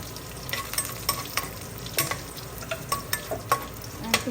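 Chilies and garlic sizzle in hot oil for gongura pickle while a spoon scrapes and stirs the pan in repeated clacks over a steady frying hiss, close up and without talk.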